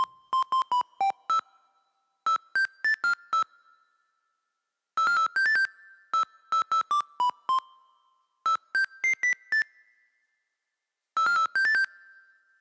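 A second synth melody from a hyperpop-flavored techno track plays alone: bright, plucky bell-like notes in quick rhythmic bursts, four phrases separated by short silences, clear and moderately loud with no voices.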